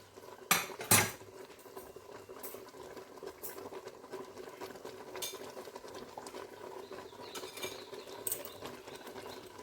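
Payesh, a Bengali rice pudding with milk, is stirred in a pot: a couple of sharp clinks of a spoon against metal near the start, then a steady low bubbling simmer with light scraping throughout, no talking.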